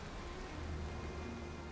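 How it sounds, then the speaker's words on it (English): Steady rain pours in the video game Valheim, a dense, even hiss with a low rumble beneath, continuous and without pauses. "that's the direction the rain is falling in"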